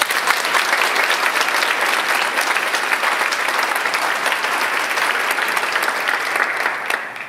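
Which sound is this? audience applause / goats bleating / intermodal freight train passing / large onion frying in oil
audience applause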